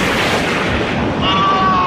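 Explosion sound effect in an audio drama fight scene as two fighters clash in midair, a loud, sustained roaring blast that fills nearly two seconds, rumbling and dense with a slightly brighter rise near the end.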